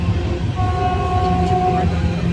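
Inside a Kolkata-to-Prayagraj train halted at Dum Dum, a steady carriage rumble fills the space while a sustained horn-like tone sounds for about a second, heard from within the coach.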